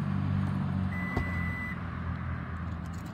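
Power liftgate on a black 2021 Toyota Highlander XLE AWD giving a short electronic beep over a low steady motor hum, with a brief click partway through, all heard close by.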